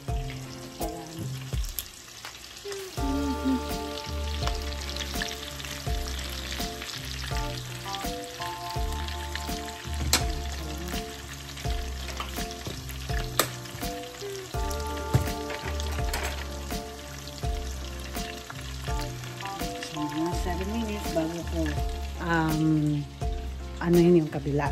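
A ribeye steak fries in a pan with a loud, close, crackling sizzle that never lets up, broken by sharp pops and spits, while people talk over it at times.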